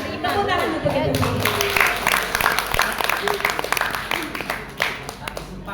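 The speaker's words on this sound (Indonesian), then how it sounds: "Tepuk tangan untuk itu." An audience at a PAUD transition training session breaks into applause, a dense, continuous clapping from many hands that carries on under a speaking voice.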